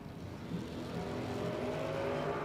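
A wheelstanding red wagon drag car accelerating at a spring drag racing event, a distant engine roar that swells steadily and holds a sustained drone without any talk.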